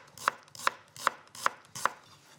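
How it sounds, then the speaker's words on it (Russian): Five evenly spaced knife chops through vegetables against a cutting board, sharp and close, with short quiet gaps between them. "Нарезаю овощи."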